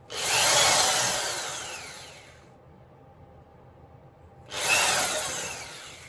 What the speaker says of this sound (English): Drill these.